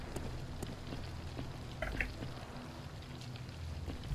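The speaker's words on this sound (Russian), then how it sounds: "идет дождь, весьма атмосферно" Rain falling in the video game Chasm: The Rift, a soft steady patter of raindrops with faint drips, low in level and heard alone.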